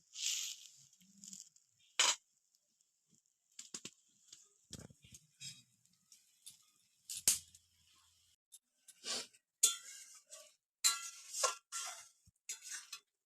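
Fish curry broth boiling in a pot on a kitchen stove gives sparse, irregular bubbling pops and soft ticks over near silence.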